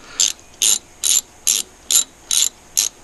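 A hand ratchet tightens motorcycle brake bolts in seven evenly spaced bursts of sharp, bright clicking, each about a quarter-second long, close up against a quiet background.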